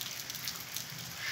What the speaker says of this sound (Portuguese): Eita chuva boa!